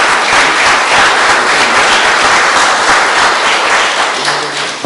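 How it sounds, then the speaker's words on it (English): A crowd at a community centre gathering with the Attorney General and Police Commissioner applauds Senior Superintendent Wayne Mohammed, loud continuous clapping from many hands holding steady for about five seconds. "I would like you all to give him a round of applause"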